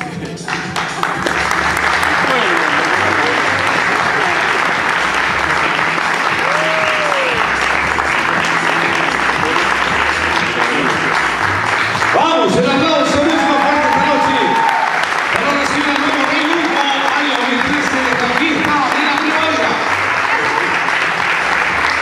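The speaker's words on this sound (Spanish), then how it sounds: "Y el aplauso es para la señorita." An audience at the 2013 spring festival coronation in Arica claps loudly and steadily for over twenty seconds, with a voice speaking over the applause partway through.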